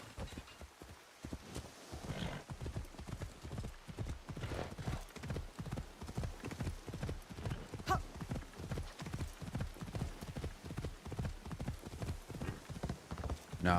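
Horse hooves clip-clop in a steady, even rhythm throughout, close and prominent, with an occasional whinny, from a horse ridden across a bridge in the video game Assassin's Creed Shadows.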